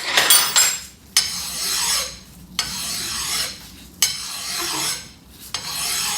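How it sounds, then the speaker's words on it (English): Rust is scraped and rubbed off a wood chipper shaft in repeated gritty strokes, each lasting about a second and a half with short gaps between them, close and fairly loud, with no voices. "Now we're just cleaning the rust off of this."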